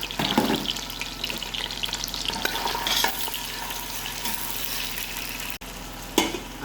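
Onions frying in hot palm oil in a pot, a close, continuous sizzle with occasional stirring scrapes and a brief clatter near the end.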